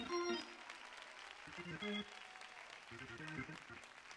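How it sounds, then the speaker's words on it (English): A church congregation claps in praise, with uneven scattered hand claps mixed with voices, organ-like tones and shouts in a lively service. "Somebody give the Lord another hand clap of praise."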